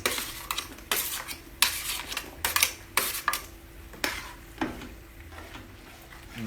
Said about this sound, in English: And I'm gonna throw in the onion, the carrots.